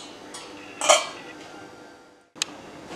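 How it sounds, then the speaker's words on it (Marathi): A lid set onto a cooking pot of Goan-style onion and tomato curry: a bright metallic clink near the start, a lower rattle, then a brief gap before a second short clink, close and fairly quiet. "याच्यावर झाकण ठेवूया"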